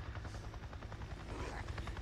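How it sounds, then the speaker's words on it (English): Helicopter rotor thumping steadily overhead in the post-apocalyptic video game Days Gone, a low rhythmic chop that fills the short moment alone, fairly faint. "I just saw a goddamn chopper. Yep. Who the hell is that? A chopper?"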